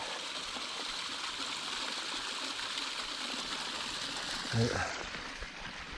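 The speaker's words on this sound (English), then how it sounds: "there's that one waterfall" A small mountain waterfall and stream in the La Madre Mountains wilderness rush in a steady, continuous wash of water, moderately loud and constant throughout, with a brief bump of handling noise near the end.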